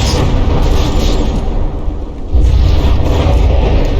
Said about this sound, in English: let me just put multiple turrets worth of shells right into the face of the Bubblegum's turrets